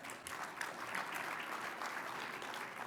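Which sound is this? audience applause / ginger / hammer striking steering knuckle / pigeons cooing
audience applause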